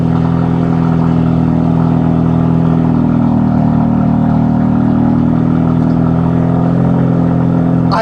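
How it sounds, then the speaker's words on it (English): A car engine drones loud and close at night in an apartment complex, a deep, steady rumble that holds for eight seconds with no talking. "this is what my car sounds like"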